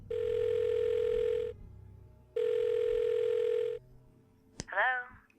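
A phone call rings in the Blackwell Deception point-and-click adventure game, two long steady electronic ring tones separated by a pause, followed by a brief click and a short burst of voice as the line connects.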